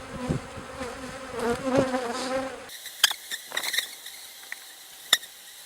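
Honeybees buzz in a steady, close drone while a beehive is split into a nucleus, with a few sharp knocks and clicks from handling frames in the second half.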